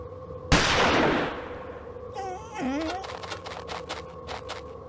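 A gunshot in Agatha Christie's Murder on the Orient Express game: one loud, close crack that rings out and decays, followed by a wolf's yelping whine and scrabbling sounds.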